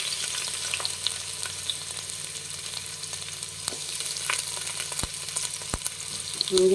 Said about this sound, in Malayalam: സവാള ഇട്ടിട്ടൊന്ന് വഴറ്റാം.